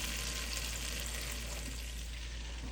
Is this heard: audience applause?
no